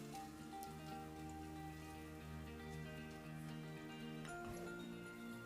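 Three cloves of finely chopped garlic fry in hot oil for a pizza sauce, a faint, even hiss holding steady for several seconds over a low background hum.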